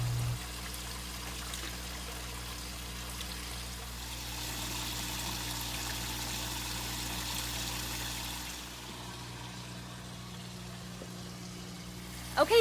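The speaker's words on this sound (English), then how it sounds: "it's nightfall and I'm refilling the pond" A garden hose runs filtered tap water into a backyard pond at nightfall, giving a steady close pouring, trickling wash that holds evenly before easing off near the end.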